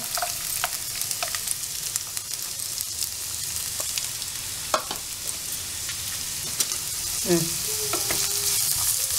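Onions frying in hot oil for egg bhurji, a steady close sizzle with occasional crackles and brief clinks of stirring, no voice.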